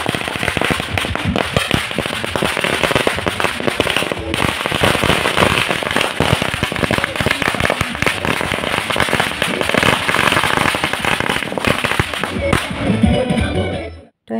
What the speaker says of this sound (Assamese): আমাৰ ফুলজাৰী চব জ্বলাইছোঁ